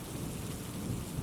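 Steady heavy rain pours down during a thunderstorm while a deep, low rumble of thunder rolls underneath, continuous and fairly quiet throughout.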